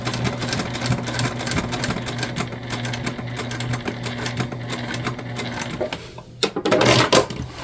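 Close and loud, a sewing machine hums in one steady, unbroken run while sewing the top seam of a bucket bag, ending in a few handling knocks and rustles.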